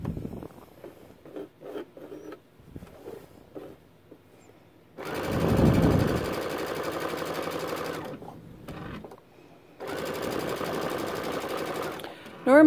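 Sewing machine stitching a Christmas stocking, two sustained runs of fast motor whir separated by a brief pause, preceded by a voice talking and handling noises.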